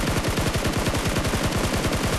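Rapid automatic gunfire in the mobile battle-royale game PUBG Mobile, loud and continuous bursts of closely spaced shots throughout, with no talking over it.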